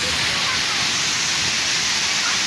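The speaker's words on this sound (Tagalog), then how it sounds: "Ito yung tinatawag nilang Tagbibinta Falls" Tagbibinta Falls gives off a dense, loud hiss of rushing water, constant and close throughout.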